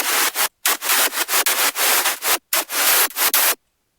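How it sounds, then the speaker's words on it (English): Bursts of bright white-noise hiss from a synth lead layer come in a choppy rhythm of short and longer blasts separated by abrupt silences, alone and close, ending in a clean cut. "the last layer is actually just some white noise"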